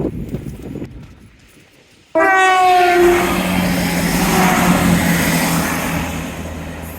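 A train rumbles past close by along a seawall, loud and steady after a sudden onset, with a brief high-pitched tone at the start and a sustained roar.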